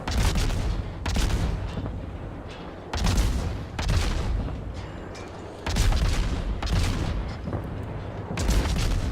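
Ship gunfire in a naval warfare video game featuring the destroyer Gearing, with repeated heavy booming salvos every couple of seconds over a dense rumbling battle din, and no talking.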